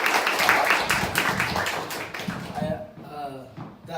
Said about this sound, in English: Give a big round of applause for Keisha